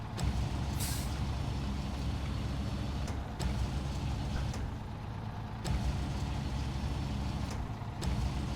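A heavy truck with air brakes in the SnowRunner video game, a continuous low engine rumble with several sharp hissing air-brake bursts spaced throughout.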